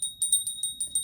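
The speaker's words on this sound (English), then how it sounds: "Let's start with the little bell." A small handheld bell rung in a quiet room, producing a quick series of about six bright, tinkling strikes in a steady rhythm, close and clear with lingering high ringing tones.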